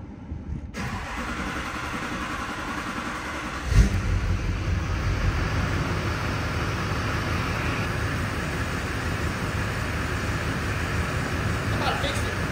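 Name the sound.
Duramax diesel truck engine cranking and revving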